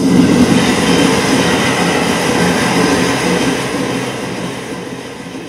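A train sound effect plays during an Italian stage play, a loud continuous rumble of rolling rail cars that slowly fades over several seconds, with no voices over it.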